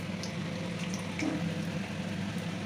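Dry red chillies, two bay leaves and whole garam masala spices sizzling in hot oil in a pan, a steady soft crackle and hiss with no talking.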